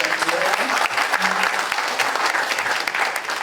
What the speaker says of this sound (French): Des applaudissements pour accompagner le Dr.